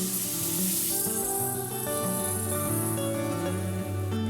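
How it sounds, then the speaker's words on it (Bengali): Tomatoes frying in a pan for a Manipuri fish curry, with water being added, give a steady loud sizzle and hiss that holds throughout with no voices. "পরিমাণ মতো জল দিয়ে দেব।"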